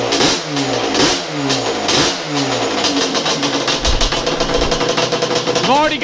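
A restored Yamaha Banshee two-stroke engine from a drag build revs loudly and snappily in repeated rising blips, close by, with a faint voice nearby.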